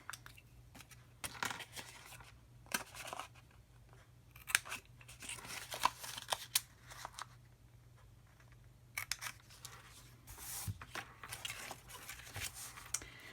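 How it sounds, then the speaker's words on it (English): Paper cutting on a handmade card-stock gift box while its top corners are rounded, heard as a run of close, crisp snips and crunches in irregular bursts with quiet gaps, no talking. "The first thing we're going to do is round the corners on the top of our box."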